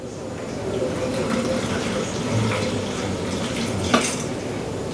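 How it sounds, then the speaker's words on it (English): Warm water pours steadily into a bowl for pizza dough in a home kitchen, a continuous close splashing gush with a brief clink near the end. "And then it's going to be the 3/4 cups of warm water."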